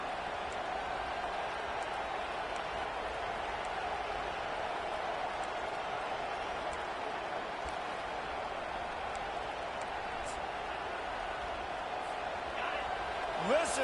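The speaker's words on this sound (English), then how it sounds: "Listen to this crowd just shaking the girders of this place, trying to help their defense." A packed football stadium crowd roars on the home defense, a steady wall of distant, unbroken noise lasting the whole stretch. A commentator's voice runs over the roar.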